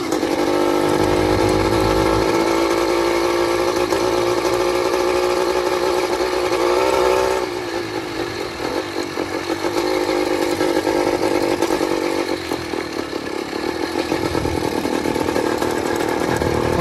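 A 100cc motorized bicycle engine runs loud and close while riding, with a high buzzing two-stroke drone that revs steadily, then drops and fluctuates as the rider changes speed.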